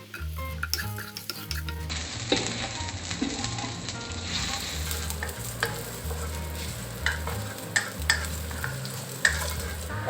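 Sliced Vietnamese pork sausage stir-fries in a pan while cooking fried rice, a steady bright sizzle broken by repeated scraping and clinking of a utensil stirring against the pan.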